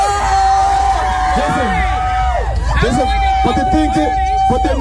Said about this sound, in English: Listen to the screams. You hear those screams?